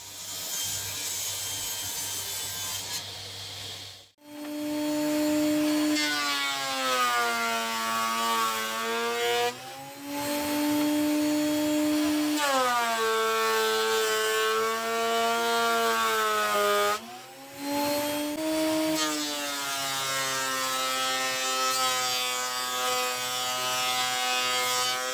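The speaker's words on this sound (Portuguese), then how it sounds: "depois passo na serra circular e no desengroço" Wood being machined on a circular saw and a thickness planer, a loud sustained harmonic machine whine that rises and falls as boards feed through, with brief pauses between passes and no talking.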